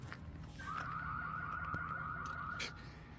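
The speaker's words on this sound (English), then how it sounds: "Nice car alarm for the ambiance of Tombstone" A car alarm wails in a steady electronic tone a short distance off in Tombstone, Arizona, lasting a couple of seconds amid faint outdoor background noise.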